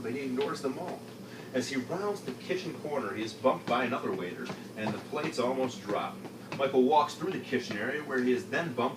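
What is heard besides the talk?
No everyday noise stands out behind the speech.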